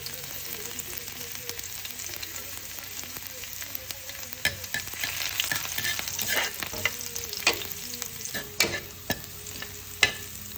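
Ginataang gabi with corned beef being stirred and fried in a pan, with a steady sizzle and scraping utensil strokes that grow busier and louder toward the end.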